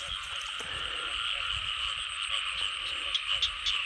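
A dense chorus of frogs croaks continuously during frog catching, a steady high trilling din with a few louder individual croaks popping out near the end.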